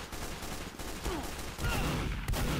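Fully automatic gunfire in Team Fortress 2, a continuous rattling burst of fire over a busy, noisy game background, fairly loud and unbroken, with no voices.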